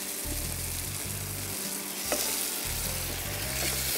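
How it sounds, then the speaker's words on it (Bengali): Vinegar poured into a hot pan of sweet, sour and spicy food hisses in a steady, close, broadband sizzle with a low rumbling hum underneath, with no talking. "ভিনেগার দিয়ে দিচ্ছি ভিনেগার"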